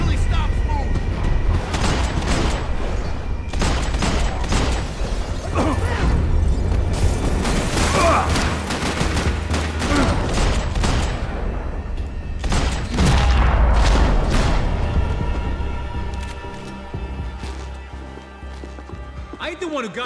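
Gunfire in the video game Max Payne 3, a fusillade of sharp shots and booms bursting repeatedly over a busy, loud battle scene, with voices talking throughout and the action thinning toward the end.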